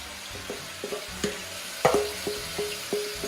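Onion fries in butter in a pan, a soft sizzle under a rhythmic series of stirring knocks and scrapes from a utensil, roughly evenly spaced, close up, with no voices.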